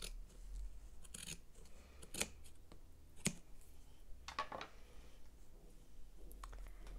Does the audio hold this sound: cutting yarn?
yes